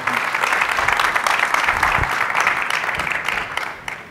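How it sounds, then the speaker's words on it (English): A conference keynote audience applauds a panel with dense, fairly even clapping that holds for several seconds and thins out near the end. "So give a big round of applause to the panel"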